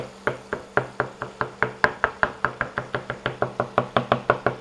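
Knife chopping garlic finely on a board, a fast steady series of about twenty sharp close knocks, evenly paced and fairly loud, with no voice over them.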